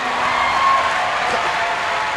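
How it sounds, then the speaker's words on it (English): An audience claps steadily as a broad, even wash of applause with no clear breaks, moderately loud and heard without any talk over it. "I really wish you can stop clapping for a minute"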